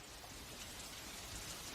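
Monsoon rain falls steadily across Thai tropical forest, a close, even wash of dense hiss with no pauses.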